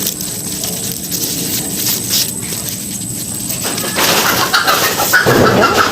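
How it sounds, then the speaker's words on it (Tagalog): Chickens cluck and squawk faintly in the background amid rustling and ambient noise, growing a bit louder toward the end. "ang ingay namang manok"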